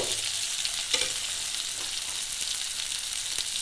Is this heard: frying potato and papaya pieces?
yes